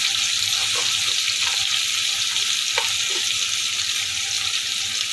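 Ginger, tomato and green chili paste frying in oil with potatoes for a paneer kosha, giving a steady close sizzle with faint stirring clicks throughout, no voices.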